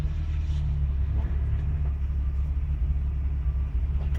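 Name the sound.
1986 4.2 liter 258 inline six engine of 1984 Jeep CJ-8 running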